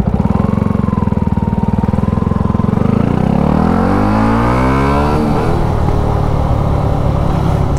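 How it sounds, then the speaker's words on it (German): A Yamaha R1 sport motorcycle passes close by on a road, its high-revving engine rising in pitch as it approaches, then sweeping down in a clear Doppler drop as it roars past and fades, over steady engine drone from the riders' own bikes. "Da war einfach eine R1!"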